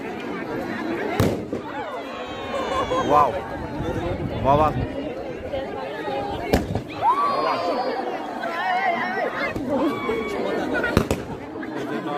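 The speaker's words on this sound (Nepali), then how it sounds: "यो चाहिँ बम पड्काएर शुभ गरेको गेमलाई।" Firecrackers burst at the opening of a football match, sharp loud bangs at irregular intervals amid an outdoor crowd, with people chattering and exclaiming throughout.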